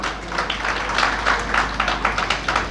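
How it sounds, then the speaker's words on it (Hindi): Applause from a ceremony audience welcoming a guest, a steady patter of many hands clapping at moderate loudness through the whole stretch, with faint room murmur underneath. "उनके लिए एक बार तालियां बजा दें"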